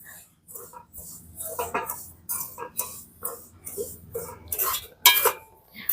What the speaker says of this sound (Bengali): সব সুজিটা কড়াইয়ে দিয়ে হালকা করে একটু নেড়ে নেব যাতে সুজির কাঁচা গন্ধটা চলে যায়